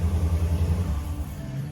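A car with a stock exhaust and a 5.7 engine rumbles in a deep, close, loud idle that swells slightly, then eases off toward the end.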